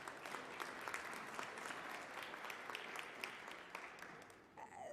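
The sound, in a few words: audience applause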